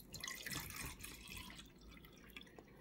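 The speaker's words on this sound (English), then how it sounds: "Now, Daddy's going to pour it into the what Riley calls the bumpy cup" Water poured from a container into a textured, bumpy cup, a soft running trickle with light dripping and splashing, quiet and close, with no one talking.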